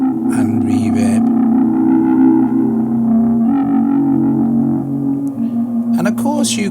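A thick, droning Portatron tape synthesizer sample swims in long delay echoes and a spacious reverb wash, with brief bursts of brighter noise at the start and end.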